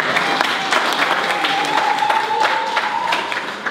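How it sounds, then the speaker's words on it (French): A church congregation applauds in a steady, fairly loud wash of clapping, with a faint sustained tone running underneath. "Moi aussi, vous allez applaudir."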